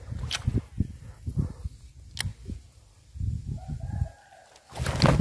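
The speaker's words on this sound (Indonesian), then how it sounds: "Bebek tuh kaget kesini." Startled fowl near a snakehead fishing spot give a series of short, agitated calls and clucks in uneven bursts, close by and moderately loud, with brief quiet gaps between.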